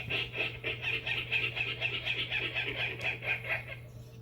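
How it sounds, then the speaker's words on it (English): Virginia rail calling in a marsh, a rapid run of loud, grunting, pig-like notes repeated steadily for about four seconds, close and clear over a low steady hum. "And if you know what the Virginia rail sounds like, it's another weird one."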